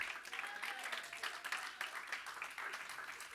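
A church congregation claps for the Lord during a Spanish-language sermon on baptism. The clapping is faint, dense and continuous, and it sounds distant.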